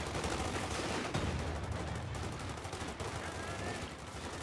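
Stolen MG-42 machine gun rattling in Company of Heroes 2, a dense, steady burst of rapid gunfire with other battlefield shots mixed in, continuous and loud across the whole stretch.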